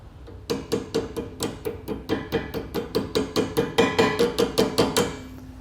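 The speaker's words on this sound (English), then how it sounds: "So we'll be tapping it just a little bit to get it through." Steady series of about twenty metallic hammer taps driving a cotter pin through a B&W Companion fifth wheel hitch on a 2019 Ford F-350, close and evenly paced with no talking.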